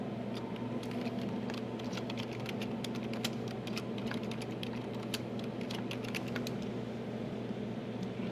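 Fingers tap quickly on a computer keyboard, a quiet, irregular patter of key clicks over a steady low hum of room noise, with no talking.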